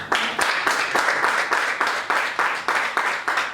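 Rhythmic audience clapping at a motivational seminar on wealth: repeated sharp claps in a steady, quick beat from a group of listeners, close and sustained.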